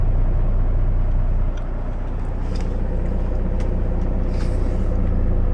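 A Freightliner truck with an Ontario plate rolls in during a snow storm, its heavy diesel rumble steady and close, with faint hissing and clanks over the low engine drone.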